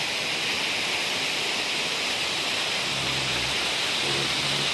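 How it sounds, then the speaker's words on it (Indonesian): Steady broadband rush of water splashing off rocks at a waterfall, Curug Payung or Curug Cisurian in Kuningan, continuous and fairly loud with no talk. "Ini juga ada percikan air dari batu-batu ya."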